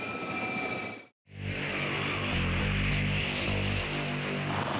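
An AgustaWestland AW139 helicopter's rotor and turbine roar steadily and loudly after a brief cut, a deep pulsing drone with a rising high whine, no voices.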